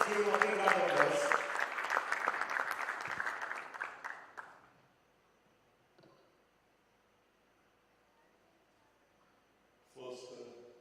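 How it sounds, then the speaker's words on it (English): Applause from the audience at an empowerment conclave hall, loud and dense for about four seconds, tapering off into near silence, with a brief burst of sound near the end. "let's give him a big round of applause."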